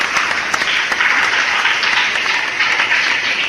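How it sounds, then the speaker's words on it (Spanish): A church congregation applauds for the Lord in steady, dense clapping that fills the room evenly from start to finish, no voices standing out. "Brindémosles un fuerte aplauso al Señor."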